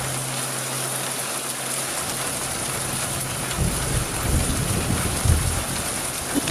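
Heavy rain pours at night in a loud, dense, unbroken hiss that lasts several seconds, with deeper rumbling surges swelling beneath it toward the end and no voices.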